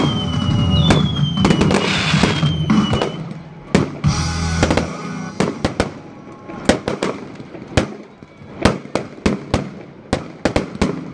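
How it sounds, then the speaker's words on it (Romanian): A fireworks display in Constanța, Romania, with a dense run of sharp, loud bangs and crackles that thins into separate booming reports, some with whistling rises, near and alone without talk. "focul acesta de artificii este pentru voi"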